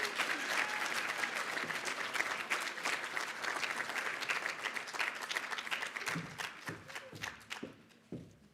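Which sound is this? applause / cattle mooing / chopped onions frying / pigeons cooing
applause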